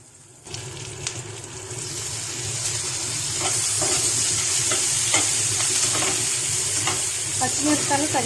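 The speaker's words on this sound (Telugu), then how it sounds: "పచ్చిమిరపకాయలు కరివేపాకు వేసి మోస్టర్ పోయే వరకు, సమాధానం పోయే వరకు వేయించుకోవాలి." Green chillies and curry leaves crackle and sizzle as they fry in hot oil, starting abruptly and building into a loud, steady hiss with sputtering pops and the scrape of stirring.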